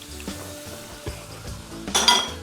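Bananas sauteing in butter in a pan for bananas Foster, a soft sizzle with a few clinks of cookware and a louder stir near the end, close by with no talk.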